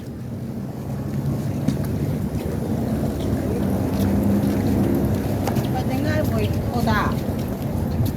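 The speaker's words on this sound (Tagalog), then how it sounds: "Ang hangin eh. Medyo malamig. Mahangin sa labas." Steady wind buffets the microphone in a continuous low rumble, with faint voices briefly audible underneath.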